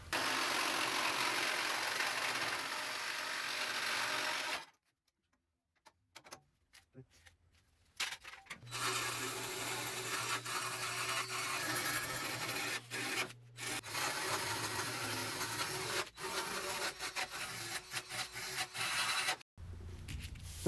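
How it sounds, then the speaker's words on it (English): Wire brush scrubbing along the edge of a 1967 Mustang part, a steady rasping scrape that runs most of the time, breaks off into near-silence for a few seconds, then resumes over a low idling hum. "I just got done wire brushing around the edge, mainly to see if there was some surface rust all along here"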